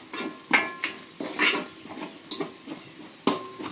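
Chicken masala mixture with chili powder being stirred in a pan, with a spoon scraping and clinking against the metal in several bursts over a faint sizzle.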